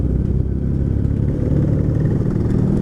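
A Honda Supra X 125 motorcycle engine with standard exhaust idles steadily up close, a rough, low rumbling throb with a slight mechanical clatter, running without pause.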